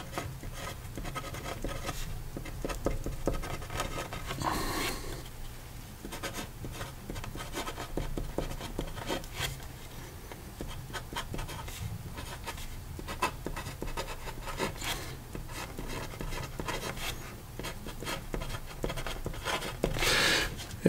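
A Lamy fountain pen writes out a quote on paper, a steady close scratching of the nib with short strokes and brief pauses, continuous for about twenty seconds with no voices.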